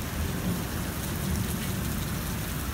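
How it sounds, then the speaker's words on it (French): Heavy rain pours steadily from a violent supercell thunderstorm in Clermont-Ferrand, a dense, close, continuous hiss of rain hitting surfaces with no voices. "Je vais vite filmer mon orage."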